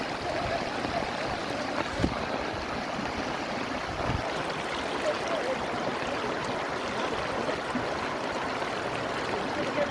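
Floodwater surges through a village with a strong current, a steady rushing wash that fills the scene, broken by a couple of dull knocks.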